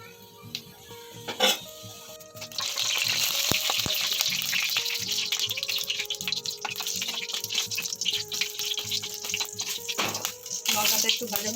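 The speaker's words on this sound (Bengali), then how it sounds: "লঙ্কাটা একটু ভাজা ভাজা হয়ে গেছে" Dried red chili, cumin and bay leaf fry in mustard oil, giving a loud, continuous sizzle with occasional clinks of stirring and no talking.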